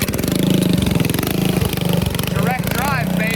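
A 1971 Go Devil mini bike engine is cranked over and catches, settling into a loud, steady, buzzing small-engine run close by, with people talking over it.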